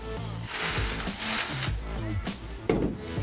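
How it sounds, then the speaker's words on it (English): A power drill whirring in bursts with shifting pitch, grinding through wood, with a sharp knock near the end. "then drill that hole"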